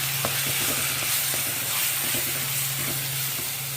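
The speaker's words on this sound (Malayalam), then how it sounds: "നമ്മുടെ വേവിച്ച് ഉടച്ച് വെച്ച കപ്പ അതിലേക്ക് ചേർത്ത് മിക്സ് ചെയ്തെടുക്കാം" Boiled, mashed tapioca being stirred into a hot sizzling pan, with a steady frying hiss and a low hum underneath and soft scraping stir sounds throughout.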